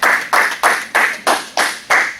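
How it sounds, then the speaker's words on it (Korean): Students in a lecture classroom clapping together in a steady unison beat, seven crisp, close, evenly spaced claps with no talk. "박수."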